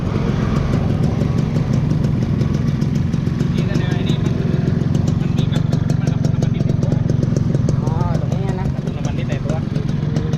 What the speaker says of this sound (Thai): มาฟังเครื่องใกล้ๆก่อนก่อนจบรีวิวผม